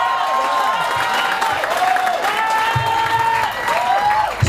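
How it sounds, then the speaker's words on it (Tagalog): A seminar audience at a network-marketing training session claps. The clapping is a continuous wash, with sliding whoops or cheering voices rising and falling above it at moderate loudness. "Palakpak nga lang eh."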